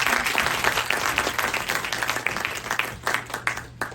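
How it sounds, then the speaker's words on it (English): Audience applause for a panel at a conscious capitalism talk event, steady dense clapping throughout that thins slightly toward the end, with no voices over it. "let's give a great round of applause to our panelists"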